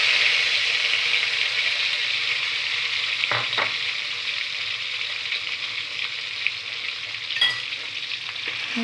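Spice paste of chili, shallot and shrimp paste fries in a pan with a steady, close, hissing sizzle, broken by a few brief clinks of a utensil against the pan.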